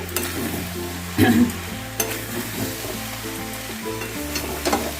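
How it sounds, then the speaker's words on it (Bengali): Muri ghonto being stirred and fried with garam masala in a pan: close, steady sizzling with scraping stir strokes, including a louder scrape just after the first second, and no talk. "গরম মশলাটা দিয়ে ভালো করে এপিট ওপিট মিশিয়ে নেব"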